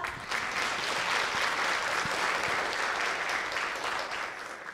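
Sustained applause from a large symposium audience after a panel discussion, steady and dense throughout with no talking over it.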